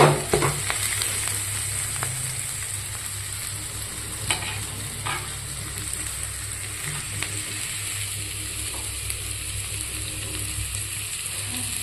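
Chicken sautéing with onion and coriander in a spicy pan fry, a steady close sizzle with scattered spatula scrapes and clicks over a low hum, no voices heard.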